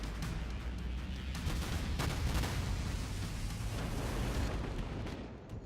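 Naval ship guns firing at an Omaha cruiser in World of Warships: a dense, continuous rumble of heavy booms and blasts, loud and sustained throughout with no voices.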